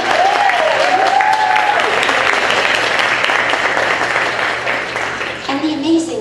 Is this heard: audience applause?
yes